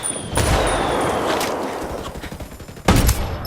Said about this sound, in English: Uh-oh, mortar, get out of that.